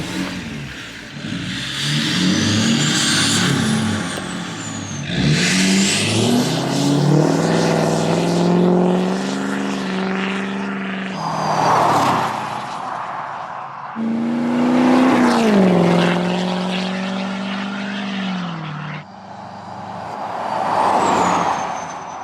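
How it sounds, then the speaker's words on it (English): Exhaust of a tuned L5P Duramax diesel single-cab pickup, heard from outside as it revs and accelerates in several loud surges with gear shifts, rising and falling pitch and brief lulls between runs; no talking. "Should we get some exterior exhaust shots of this thing?"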